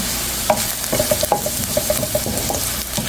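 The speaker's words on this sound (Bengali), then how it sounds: "এখন কালি জিরাটা দিয়ে দেবো" Nigella seeds frying in hot oil with browned onion and garlic, a continuous close sizzle broken by quick clinking stirs and a run of small rhythmic taps against the pan, no talking.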